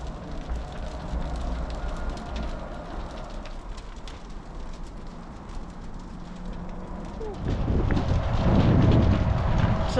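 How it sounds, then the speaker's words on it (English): Wind from a nearby highway roars steadily and then surges into a louder, blustery gust near the end, buffeting the microphone. "Sometimes you get big gusts of wind like this from the highway"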